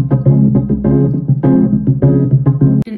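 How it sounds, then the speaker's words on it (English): Two synthesizers play together in a song arrangement, with sustained harmonic chords and rhythmic stabs changing every half second or so, loud and close, ending with a short sharp click. "Then I added these two synths."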